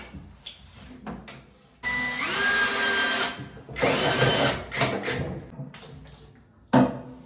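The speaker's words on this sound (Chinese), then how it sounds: "对应好螺丝孔，直接拧螺丝就可以了。" A power drill drives screws while a cabinet is installed, with two close whirring bursts of several seconds each, separated and followed by short clicks and knocks.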